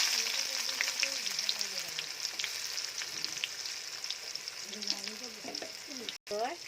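Chopped onion sizzles in hot oil with a dense, steady hiss close at hand, and a person talks briefly over the frying at the start and again near the end.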